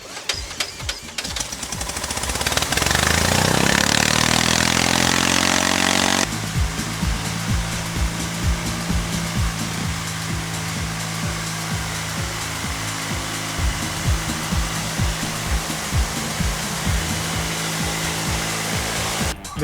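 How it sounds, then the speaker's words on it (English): A loud robot machine's engine, started with a drill, whirs up to a high drone, then cuts to a steady, rattling mechanical run with repeated clicks and clatter. "This is the engine that basically is the whole part of the whole machine, makes the whole thing go."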